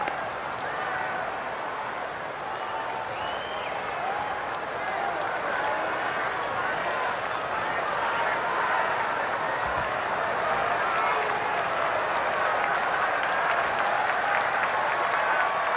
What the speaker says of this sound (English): Dodger Stadium crowd trying to help Ohtani out.